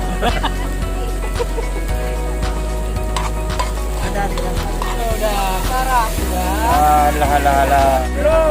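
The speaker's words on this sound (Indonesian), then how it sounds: "Ini lagi masak Indomie kita." Indomie instant noodles cooking on a stove, with loud rhythmic stirring clatter over a low hum and sizzle, followed by people talking over the cooking.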